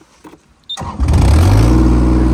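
A Hamm HD-12 dual vibrating roller compactor starts up: a few faint clicks, then a brief crank and the diesel engine catching, settling into a loud, steady close-up idle.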